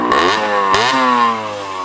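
A 1982 Yamaha YZ60 small dirt bike engine revs up twice in quick succession, its pitch rising and falling before it settles into a steady higher idle, close and loud.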